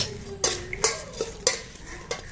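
Someone mixes a fruit chaat seasoned with black salt, and a utensil scrapes and clinks against the bowl in about five distinct strokes, close and fairly crisp, with no talking.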